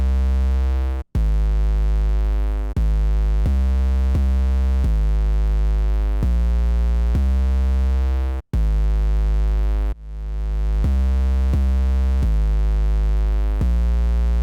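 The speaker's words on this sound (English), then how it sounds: "we're going to go over the 808" A deep, booming 808 bass plays sustained notes in a repeating pattern, loud and heavy, with two brief dropouts to silence.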